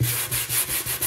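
Gritty sandpaper from a RAYHONG headlight restoration kit rasps back and forth across a plastic headlight lens, loud and close, in steady rhythmic strokes with no voices.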